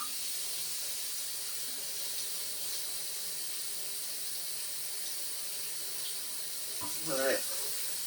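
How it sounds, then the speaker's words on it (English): An Aerogarden's pump pushing water through the hydroponic system during a rinse makes a steady, close hiss of running water that continues throughout, with a brief soft clunk near the end. "Don't know if it'll even pump correctly. Okay, I could see some water coming out."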